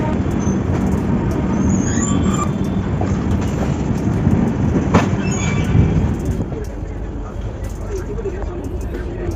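The Shatabdi Express pulls out of Haldwani railway station, heard from aboard as a steady rumble with wheel clatter and occasional high squeals, then easing into a quieter roll.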